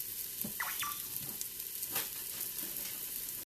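Food browns in a pan with a steady close sizzle, and a few light knocks and stirs from a wooden spoon sound over it.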